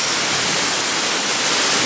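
At Shifen Waterfall in Ruifang, Taiwan, water pours down over rocks in a steady, dense roar that fills the whole clip, close and loud.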